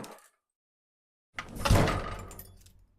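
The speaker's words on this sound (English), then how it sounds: "The door swung open." A door with a rusted lock swings open into an old school bathroom: after a second of silence, one loud creaking, rattling swing that slowly fades away.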